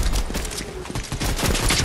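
Rapid gunfire during a Fortnite squad fight, a dense run of overlapping shots and bursts that keeps up loudly through the whole moment, with busy game noise around it.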